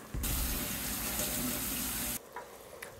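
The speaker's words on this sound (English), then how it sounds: "we need to rinse this rice off" Kitchen tap water runs hard into a strainer of rice for Hoppin' John, a steady loud hiss that cuts off abruptly, leaving a few faint clinks.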